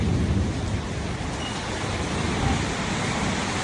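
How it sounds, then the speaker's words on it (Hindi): Steady rain rushes down as a thunderstorm sets in, a continuous broadband wash with a low rumble underneath, moderately distant and unbroken. "बारिश स्टार्ट हो गई थी"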